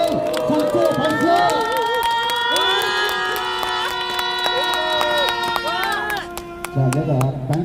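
Crowd cheering and shouting at a patriotic group's rally rises loud and sustained for several seconds, with long held tones over the roar, then breaks off into scattered voices and claps near the end.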